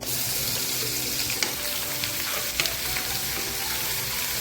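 Black masala paste with cumin frying in hot oil in a kadhai, a steady close sizzle with faint stirring scrapes and no talk.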